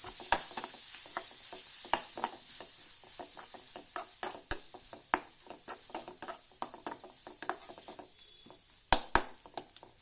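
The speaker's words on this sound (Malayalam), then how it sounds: "നന്നായിട്ടൊന്ന് മിക്സ് ചെയ്യാം." A spoon stirs a cooking mixture in a pan with scattered soft scrapes and clicks at an uneven pace. The pan sizzles faintly underneath, and there is no talking.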